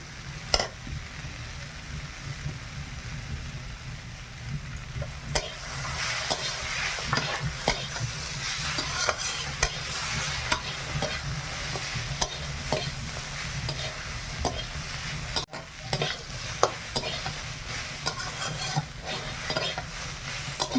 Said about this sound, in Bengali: মশলাটা ভালোভাবে নেড়ে নিয়েছি